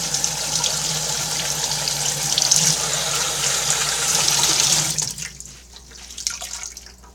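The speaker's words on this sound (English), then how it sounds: "get some water really hot, all the way on the hot side" A kitchen tap runs hot water in a steady, loud hiss for about five seconds, then shuts off, leaving a few faint drips and splashes in a quieter room.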